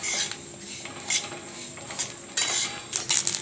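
Garlic dry roasting in a pan while being stirred, giving scattered scraping and clinking bursts of a utensil against the pan, moderately near, with quieter rustling in between and no talk.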